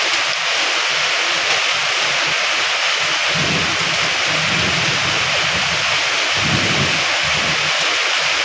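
Heavy rain pours in a dense, loud, continuous roar with wind buffeting the microphone, and low thunder rumbles swell beneath it twice.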